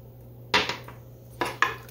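A salad seasoned with a light sprinkle of salt and black pepper is tossed in a bowl, giving two short, quiet bursts of clattering utensil and bowl contact separated by a pause, with no talking.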